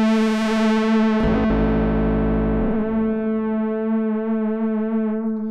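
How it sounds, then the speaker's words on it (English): Moog Matriarch synthesizer with its LFO patched into pulse width modulation, a sustained buzzy tone whose harmonics sweep and shimmer steadily, a low layer dropping out partway through. "So I plug our LFO into pulse width modulation."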